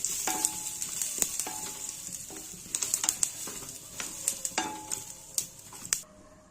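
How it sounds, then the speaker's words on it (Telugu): Sesame seeds and green chillies frying in a pan crackle and pop over a steady hiss, with repeated metallic scrapes and taps of stirring at an uneven rhythm, fairly close and moderately quiet. "నువ్వులు అరకప్పు, పచ్చిమిరపకాయలు అన్నీ కలిపి బాగా వేయించుకోవాలి."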